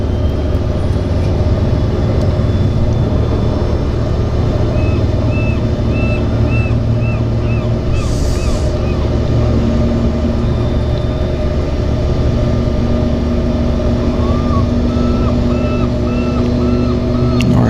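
A floatplane takes off from a city harbour at Vancouver, its engine a steady, loud droning hum that holds for the whole stretch, with a faint voice briefly over it.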